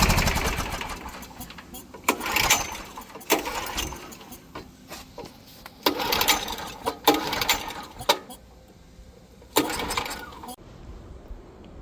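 A Coleman Powermate PM 1500 generator fails to start, with several rough bursts of recoil pulling and sputtering mechanical rattle that die away between attempts, close by, with voices talking at times.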